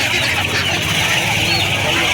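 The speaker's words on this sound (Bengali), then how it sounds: "সেলিমকার কাছে আমরা মুরগি দেখাচ্ছি অস্ট্রেলিয়ার আছে সোনালি মুরগি আছে" Chickens, including Australian and golden breeds, crowd a busy poultry market in Uluberia, their dense clucking and squawking forming a loud, continuous din with voices mixed in.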